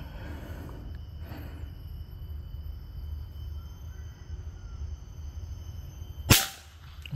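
A single sharp air rifle shot rings out at a 100 m test range near the end, a sudden crack that decays quickly over a steady low background hum.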